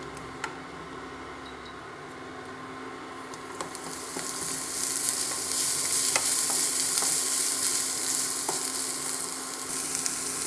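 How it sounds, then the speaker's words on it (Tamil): Cooked peas frying in a pan for red aval upma while being stirred: a steady sizzle that gradually grows louder, with occasional ticks and scrapes of the spoon against the pan. "அதையும் நீங்கள் நல்லா ஃப்ரை பண்ணி விடுங்க."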